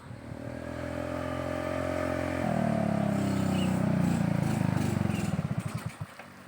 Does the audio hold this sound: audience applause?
no